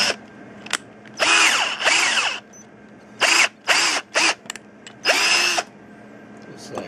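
A power drill with its torque set at 16 bores through a quarter-inch steel support bracket for a Tesla coil's flat spiral primary, sounding in several loud whining bursts of one to two seconds, separated by quiet pauses.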